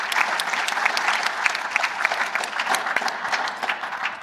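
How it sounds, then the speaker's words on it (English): Audience at a space summit breaks into steady applause, dense overlapping claps filling the hall for several seconds at an even, sustained level with no talking. "How about a big round of applause?"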